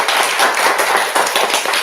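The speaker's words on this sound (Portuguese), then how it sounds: "acho que podemos dar uma salva de palmas aí" Applause from an audience at a talk, many hands clapping in a dense, steady patter, close and loud, lasting throughout.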